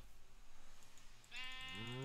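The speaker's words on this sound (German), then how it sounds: "Jetzt haben wir schon 3 Schafe." Sheep bleating in the Minecraft video game: a noisy, quiet first second gives way to a loud, wavering game bleat with a falling pitch that lasts to the end.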